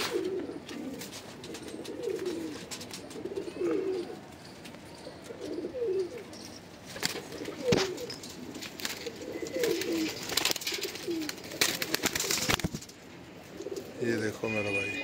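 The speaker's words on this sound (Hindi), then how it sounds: "कितनी अच्छी बैठक के कबूतर हैं" Madrasi pigeons coo repeatedly in soft, rolling calls at a pigeon sale in Chhatarpur village, Delhi, with clattering and rustling noises around them and a voice speaking briefly.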